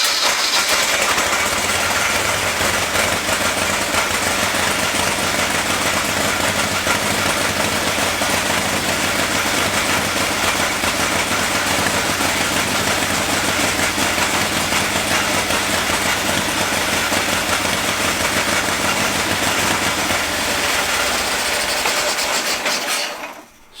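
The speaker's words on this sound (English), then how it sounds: "I like to run them and make sure nothing leaks and tune it all up, tighten the head bolts, adjust the push rod, set the timing." A rebuilt Harley-Davidson motorcycle engine runs steadily and warms up in a machine shop, a loud, even, rumbling idle heard up close for about twenty-four seconds before cutting off, with no voices.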